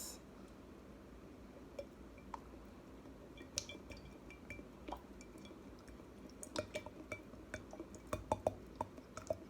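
Cinnamon-infused oil mixture poured into a glass jar, with faint scattered drips, soft glassy clinks and trickling that grow busier toward the end, close and quiet.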